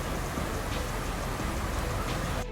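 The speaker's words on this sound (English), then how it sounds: "Raining in Dubai." Steady rain falls in Dubai as a dense, even hiss of drops on surfaces, continuous and fairly close, with nothing else standing out until it cuts off abruptly at the very end.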